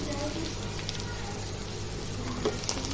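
Sweet corn kernels frying in ghee in a pan give a soft, steady sizzle with faint crackles, low and close throughout.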